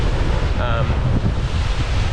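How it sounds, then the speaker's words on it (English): Strong wind roars across the microphone while heavy ocean waves crash against a beach wall at Prachuap Khiri Khan in November, a loud continuous wash of surf and gusts. "Lots of wind, lots of waves"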